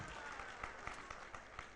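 Faint applause from a religious congregation at a Jain discourse honoring the book Mook Maati, soft rapid clapping with a few sharper individual claps standing out over the steady patter.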